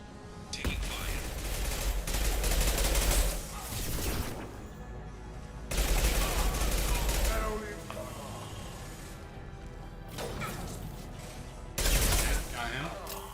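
Bursts of automatic gunfire from a Mass Effect 2 firefight, loud and dense in several long volleys separated by brief lulls, with voices calling out between them.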